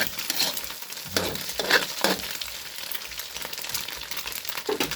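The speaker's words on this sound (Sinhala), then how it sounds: "බිත්තර ටික ෆ්‍රයි වෙන්න තිබ්බා" Eggs fry in a pan for egg fried noodles, giving a steady crackling sizzle with a few stirring scrapes and clinks, close and fairly loud, with no voices.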